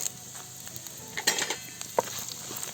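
Curry leaves and coconut pieces frying in a pan for coconut sambar, a bright crackling sizzle punctuated by short pops and quick stirring clatter.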